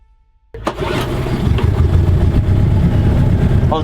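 A boat engine on a small canal cranks and catches after a moment of silence, then settles into a loud, steady mid-pitched running rumble close by.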